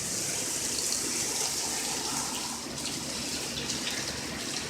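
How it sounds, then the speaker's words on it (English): Rain falls in a steady, dense hiss that stays at an even loudness throughout, with no voices or other distinct sounds on top. "I just wanted to film the rain for a while."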